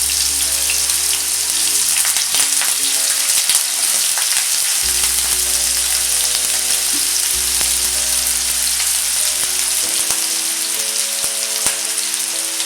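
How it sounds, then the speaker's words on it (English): Potato pieces fry in a pan with a loud, continuous close-up sizzle and fine crackling spatter, steady throughout with faint underlying hum. "So I'm quickly trying to fry few potato pieces."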